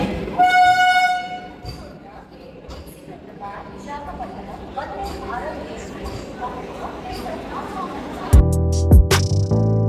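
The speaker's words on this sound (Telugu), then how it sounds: "ఇంక మన ట్రైన్ కూడా వచ్చేస్తుంది" An orange Vande Bharat train pulls into Secunderabad station amid platform crowd noise and voices, with a loud sustained multi-tone horn blast near the end.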